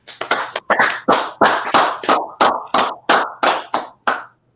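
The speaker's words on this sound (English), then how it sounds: "go ahead and clap it up" A class clapping together on cue, about a dozen sharp unison claps in a steady rhythm, loud and close with no talk.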